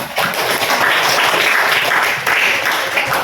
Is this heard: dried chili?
no